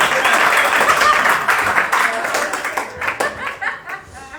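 A comedy club audience bursts into applause mixed with laughter, loud at first, then thinning into scattered claps as it dies away.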